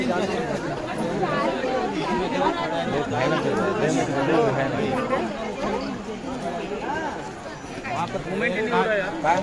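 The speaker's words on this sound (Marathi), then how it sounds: "गर्दी बघा किती आहे" Large crowd of pilgrims chattering on a forested mountain path up to Gangadwar at Trimbakeshwar, a dense, close babble of many overlapping voices that continues without a break.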